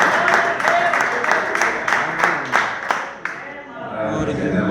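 A church congregation claps during a worship service, a run of sharp, rhythmic hand claps that fades out, with voices mixed in among the clapping.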